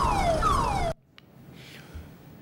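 A loud wailing siren sweeps up and down for about a second, then cuts off abruptly, leaving quiet background noise.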